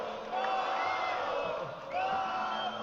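A large crowd at the Red Bull Wololo main stage cheers and whoops in two swelling waves, loud and sustained, greeting a hometown player.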